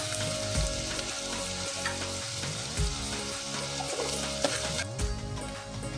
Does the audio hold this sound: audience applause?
no